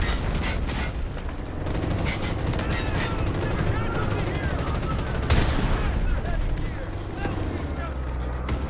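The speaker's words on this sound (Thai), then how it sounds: "รถถังมันมา รถถังมันมา" Tank gameplay in Delta Force with heavy, continuous gunfire and rattling mechanical clatter throughout, loud and dense, with a sharp burst partway through and players talking over the din.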